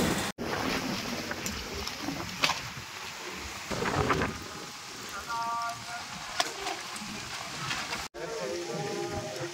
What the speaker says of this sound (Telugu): ఈదురుగాలులకు తోడు వర్షం తోడై బీభత్సం సృష్టించాయి.